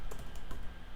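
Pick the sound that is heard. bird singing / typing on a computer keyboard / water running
typing on a computer keyboard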